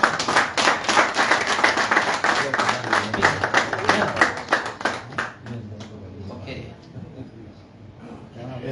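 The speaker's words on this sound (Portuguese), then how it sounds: "Mais palmas." Clapping from an audience at a Guinea-Bissau Football Federation event, a burst of distinct rhythmic handclaps that fades after about five seconds into quieter room sound.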